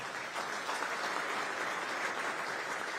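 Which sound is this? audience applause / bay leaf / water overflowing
audience applause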